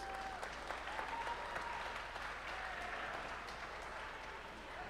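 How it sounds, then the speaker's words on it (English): Faint, steady applause for pageant contestants from a crowd heard at some distance, a soft continuous patter with a few tonal murmurs mixed in and no clear speech. "So please, a big round of applause again to our contestants."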